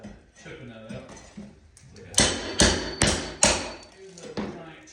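Plaster and lath get chipped out with a chisel and hammer during demolition: a voice speaks at first, then four or five loud, sharp strikes land in close succession, near and echoing in a bare room.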